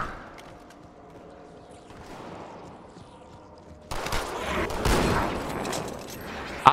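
Gunfire rattles in the Sacred Icon level of Halo 2: Anniversary on PC; a quiet, faintly busy stretch gives way to denser bursts of weapon fire over the last few seconds.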